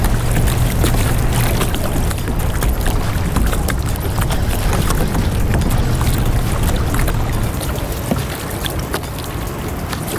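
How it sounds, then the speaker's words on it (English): Strong wind roars steadily across the microphone on a fishing boat at Oregon Inlet, a loud, constant buffeting rush mixed with water and hull noise, with no talk. "That wind today they've been talking about."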